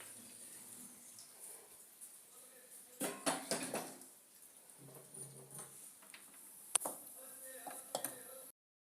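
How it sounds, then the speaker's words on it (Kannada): A frying pan (kadai) is washed with scraping, clanks and splashy bursts, a few sharp metallic knocks standing out over a low, busy background and faint voices. "ಬಾಣಲೆಯಲ್ಲಿ ಗೈಸ್ ಬಾಣಲೆ ತೊಳ್ಕೊತಿದ್ದಾರೆ."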